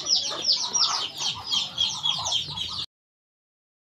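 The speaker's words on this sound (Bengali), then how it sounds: "এই রুমে হচ্ছে আমার বাকি হাঁসগুলো" A flock of farm ducks kept in a shed calls with repeated quacks and clucks close by, overlapping in quick bursts for about three seconds before stopping.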